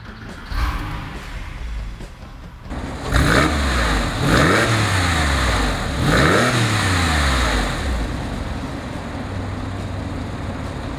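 A 2002 Porsche 911 Carrera 4S engine cranks and fires up, then gets three loud rising revs that fall back, settling into a steady idle, close and dominant throughout.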